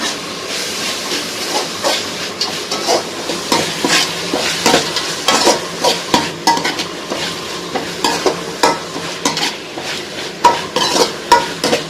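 One kilogram of chicken sizzles in a pan and is stirred in a steady rhythm of scraping strokes, loud and close, with continuous frying hiss underneath.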